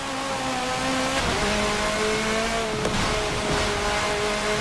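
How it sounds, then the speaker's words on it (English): An all-wheel-drive race car in Forza 7 holds a steady, droning engine note that shifts pitch as it revs, with faint tire squeal under the continuous roar. "the amount of wheel spin just doesn't make sense with it being an all-wheel drive car"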